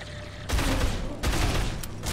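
Pistol fire in the video game Dead Island: two loud, sharp bursts about a second apart, each with a ringing tail over steady game background noise.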